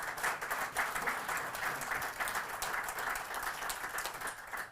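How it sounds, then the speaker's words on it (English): A press conference audience in Ireland, gathered for the Pittsburgh Steelers, gives a warm round of applause, a steady dense wash of many hands clapping at a moderate distance without any talk over it. "please give him a warm round of applause"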